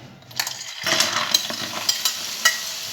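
Seafood hisses and crackles as it hits hot oil in a pan, a dense sizzle rising suddenly after a brief quiet, punctuated by a few clinking taps of utensil on metal, close up.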